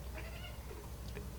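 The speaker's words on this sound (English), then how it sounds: "here comes our hairless cat." A hairless cat gives a couple of faint, thin meows in a quiet room over a low background hum.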